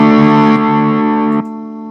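A sustained distorted electric guitar chord from a Headrush unit into a guitar amplifier rings out, stepping down in gain and volume twice over two seconds.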